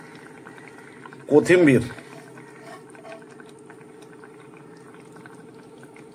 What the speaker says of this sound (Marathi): आता हे उकळलंय